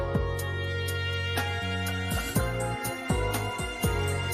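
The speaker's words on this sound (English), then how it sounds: "So this is the sound of the dungeon." Dungeon background music from the Persona 4 video game plays steadily with sustained tones, a low bass line and repeated short accents, clear and with no talking.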